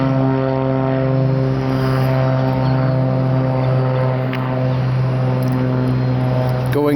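A Beech B36 propeller airplane passes overhead near CMH airport, a loud, steady droning engine and propeller hum that holds throughout, close and without talking.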